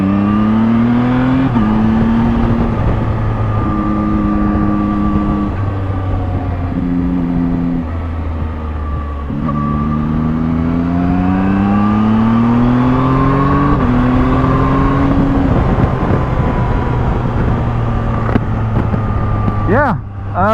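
Zontes 703F adventure motorcycle accelerating hard through the gears, its engine note climbing and dropping at each upshift, loud and close for about twenty seconds, with wind noise and a voice talking over it.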